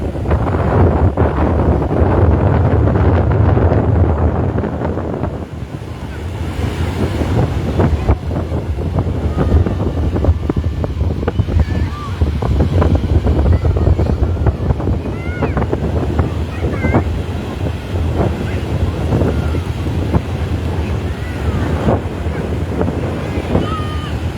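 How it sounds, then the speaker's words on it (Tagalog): Strong gusts roar over the microphone at the seaside in Lingayen, Pangasinan, with surging rough waves and scattered voices of a crowd beneath. "Lakas ng hangin."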